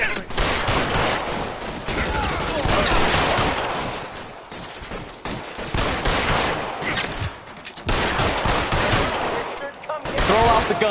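Video-game gunfire in the 1940s Los Angeles detective game L.A. Noire: loud, rapid bursts of shots in clustered volleys with brief lulls between them, with voices speaking in places.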